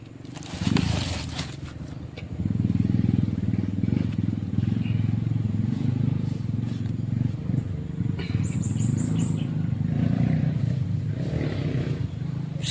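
Motorcycle engine running close by, a steady low drone that persists throughout, with brief sharp bursts and some outdoor noise layered over it.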